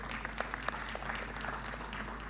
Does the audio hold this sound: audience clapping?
yes